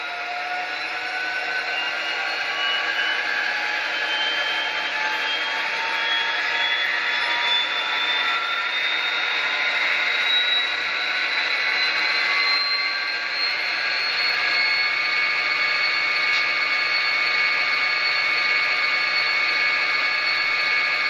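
An SD45-2 model locomotive with a Tsunami 2 DCC sound decoder runs its diesel engine at notch 8, a steady loud droning whine with slowly rising tones that holds unbroken throughout.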